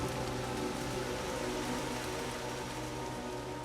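Heavy rain pouring down steadily, a dense unbroken hiss of drops close by with no voices, holding loud throughout rather than audibly swelling.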